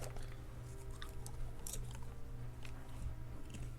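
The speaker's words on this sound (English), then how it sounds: "I'm munching out on this damn popcorn" Someone munches popcorn close up, a steady run of soft crunching bites with brief sharper crackles against a low constant hum, no talking.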